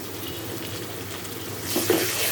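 Onions frying in a pan with ginger being added, a steady close sizzle that swells louder and busier near the end as the ginger goes in, with no talking.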